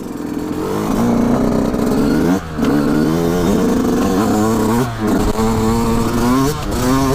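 A 2020 Yamaha YZ 125 dirt bike, a prepared off-road machine, revs hard up close, its engine pitch climbing and falling in loud continuous bursts with a few brief dips between throttle blips.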